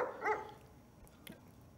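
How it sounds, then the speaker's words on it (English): A quick pair of dog barks sounds early in the game Kusogr4nde Dark Years, followed by faint scattered noises, all fairly quiet. "I like the dogs barking."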